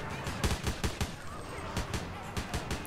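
Rapid gunfire in GTA San Andreas, a run of sharp, loud shots in uneven bursts and single cracks, some quick and clustered, others spaced apart, over a steady game background.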